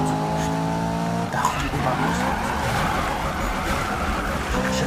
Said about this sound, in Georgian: ეხლა კიდევ გავაკეთოთ დრიფტი.